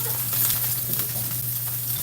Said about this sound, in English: But I just wanted to get that very good sizzle.